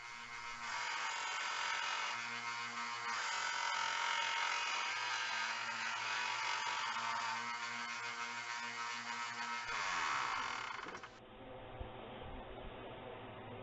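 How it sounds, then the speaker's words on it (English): A belt grinder running a 120 grit belt shapes knife handles: a loud, steady, rough grinding roar holds for about eleven seconds, then abruptly drops to a quieter run-down. "I'm using my grinder with a 120 grit belt to shape these handles."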